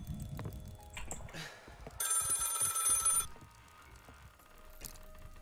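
A telephone rings inside the horror game Maid of Sker, one bright sustained burst of bell-like ringing over quiet ambient clicks and noises, with short fainter tones before and after.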